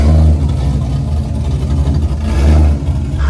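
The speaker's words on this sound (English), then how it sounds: "I love Corvettes. And this one sounds amazing." A Corvette's loud V8 engine idles with a deep, lumpy burble, rising briefly into a rev near the end, close up.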